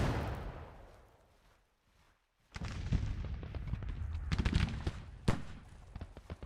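Artillery fire in the Civil War strategy game Grand Tactician, a fading rumble followed after a short silence by a burst of sharp cannon booms and crackling shots, with one loud report near the end.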